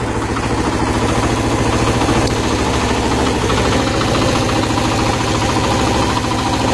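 A Suzuki motorcycle engine modified to run on water fuel idles close by with a loud, steady, rapid putter and knocking pulse that holds throughout.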